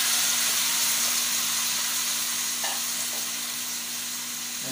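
Pork chops sizzle in a pan as the marinade goes in, making a loud, dense, steady frying hiss up close that eases slightly toward the end, with no talking.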